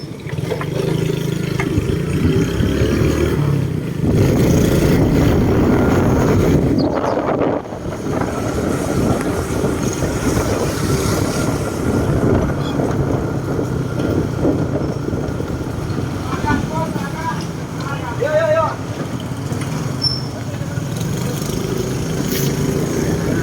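Loud, constant wind rush and engine rumble from a moving motorbike, steady throughout with brief gusts buffeting the microphone.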